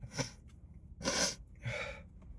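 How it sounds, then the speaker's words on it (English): A close, quiet sneeze built from a couple of sharp breathy bursts, with a short intake of breath before the main expulsion. "I had to sneeze."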